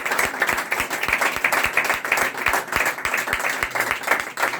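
A church congregation claps and applauds steadily, a dense patter of many hands in quick regular beats filling the room without a break.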